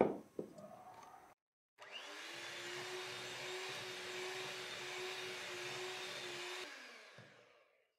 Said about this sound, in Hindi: अब इसमें हम पाउडर चीनी डालेंगे और इसे बीट करेंगे।